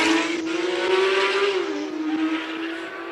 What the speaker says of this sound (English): Coty Veyers launches that Porsche GT3 RS.